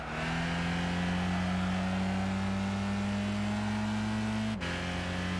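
Front-wheel-drive car engine in Gran Turismo 5, fitted with a catalytic converter upgrade, a steady droning hum held at near-constant revs, then a sharp gear-change dip and drop in pitch near the end, heard alone without talk.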